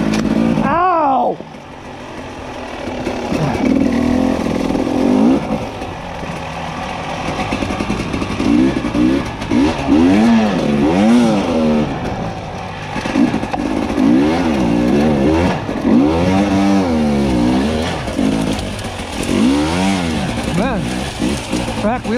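A Husqvarna TE300i dirt bike engine revs hard on a singletrack trail, loud and close, with repeated rising and falling throttle bursts and steady mid-range droning between them; a rider speaks occasionally.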